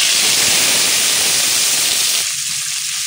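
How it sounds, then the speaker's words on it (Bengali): Chopped onions added to hot oil with black cumin seeds, dried red chillies and bay leaf in a wok for a kochur loti dish, a loud dense sizzling hiss that drops back slightly toward the end. "এরপর দিয়ে দেবো পেঁয়াজ কুচি"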